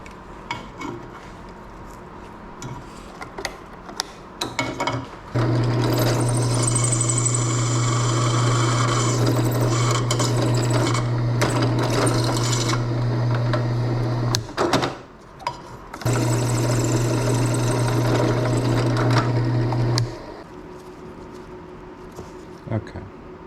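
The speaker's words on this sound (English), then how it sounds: "Going to drill a hole in the top of each one." A power drill whines steadily for two long stretches, drilling holes into chunks of metal, pausing briefly in between, with clunks and handling noises before and after.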